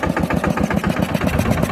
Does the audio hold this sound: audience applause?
no